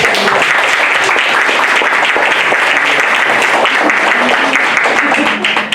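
Sustained applause from a church congregation as the mothers present clap for themselves during a Hindi sermon, a dense, steady wash of many hands clapping at full volume throughout, with faint voices mixed in.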